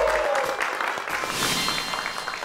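Studio audience on a Marathi TV game show breaks into loud, sustained applause, a dense wash of clapping that holds steady for a couple of seconds with no talk over it.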